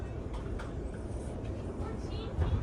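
Inside a moving Eurostar train, premier standard class: a steady low rumble and hum of the carriage runs throughout, with a slightly louder bump near the end as a voice talks over it.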